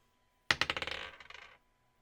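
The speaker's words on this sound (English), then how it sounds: "I'm going to roll this die now" A die hits a hard surface with a sharp clack, then bounces and rattles in quickening, fading clicks for about a second before settling, close and alone in a quiet room.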